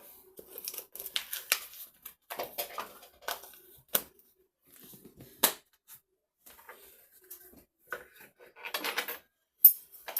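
Intermittent clinks and clatters of dishes and utensils being handled for washing up, sharp isolated knocks between softer scraping, close by with no talking.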